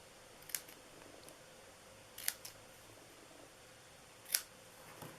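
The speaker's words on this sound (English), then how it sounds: "I'm just gonna cut, and then I'm gonna use my little scissors." Small scissors snip scrap paper in a few sharp, isolated cuts spaced apart, close and quiet in an otherwise still room.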